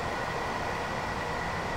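London commuter train heard from inside the carriage in the game Train Sim World 2 at night, a steady loud rumble and hum of the running train with no break.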